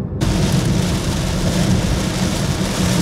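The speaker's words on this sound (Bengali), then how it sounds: "এখন প্রচণ্ড বৃষ্টি" Heavy rain pours down in Sylhet, Bangladesh, a dense, loud, steady roar filling the whole moment with no pauses and no voices.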